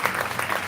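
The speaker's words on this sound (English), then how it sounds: "Great round of applause." Steady applause from an audience at an evening event at the ABQ BioPark in Albuquerque, a dense wash of clapping that holds at an even level throughout, with no voices rising above it.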